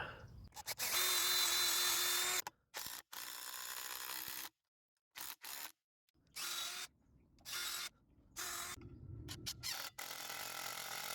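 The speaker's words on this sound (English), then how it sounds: "I'm going to drill a pilot hole to start" A power drill whines in several bursts of varying length while drilling a pilot hole into a wooden 2x4, close and loud, stopping and restarting with short silences between runs.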